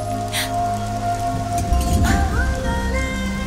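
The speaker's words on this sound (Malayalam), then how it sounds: "മഴ തോർന്നിട്ടില്ല." Rain keeps falling, heard as a steady close patter of drops on a surface beneath a sustained tonal hum, with a brief low rumble about two seconds in.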